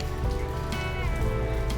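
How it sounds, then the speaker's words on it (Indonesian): Steady rain falls during the rainy season in Pangandaran, a dense, even patter of drops on surfaces that continues unbroken and fairly close throughout, with no voices. "Hujan karena emang lagi musim hujan ya."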